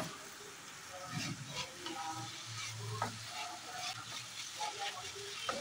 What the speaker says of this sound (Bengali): টমেটো দিয়ে দেওয়ার পর সব কিছু আবার নেড়েচেড়ে 2 থেকে 3 মিনিট লো হিটে ভেজে নিচ্ছি।